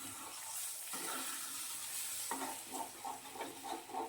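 Eggs being stirred into hot masala in a pan for anda bhurji, with a steady close sizzle and spatula scrapes, stronger scraping strokes arriving in the second half.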